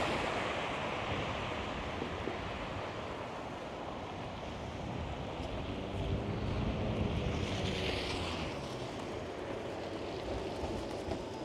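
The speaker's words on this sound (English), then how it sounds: "the wind is doing its darndest to try and rip my umbrella out of my hand" Strong gusts of wind roar across the microphone during a snowfall in Toronto's financial district, a loud, continuous rushing that swells and eases without any voices.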